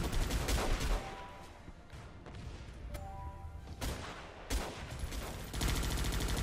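A gunfire volley in the Guns Up! strategy game, with dense overlapping shots, crackling bursts and booms that roll on for several seconds and swell near the end, with no talking.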